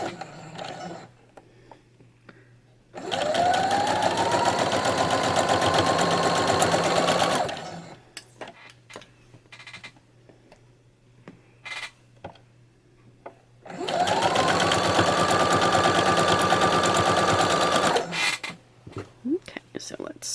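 A sewing machine stitches fabric for a quilt corner square in two long steady whirring runs of about four seconds each, with quiet handling noises and a low hum in the pause between them.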